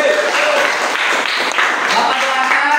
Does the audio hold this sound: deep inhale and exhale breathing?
no